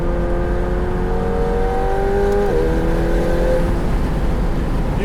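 A 2020 McLaren 720S Spider's engine revs up under acceleration, a loud, close, steadily rising tone that drops sharply at a gear change midway and then climbs again, alone with no talk.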